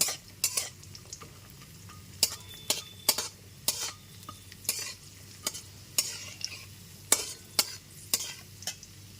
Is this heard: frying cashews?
yes